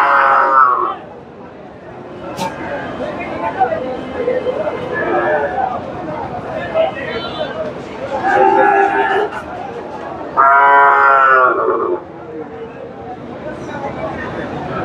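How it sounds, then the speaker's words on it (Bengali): A Friesian bull at a busy cattle market lets out loud, drawn-out moos, two strong calls around the middle and end, over a steady background of crowd chatter and livestock. "মাশাআল্লাহ চমৎকার একটা ষাঁড় গরু, এই যে ফ্রিজিয়ান জাতের"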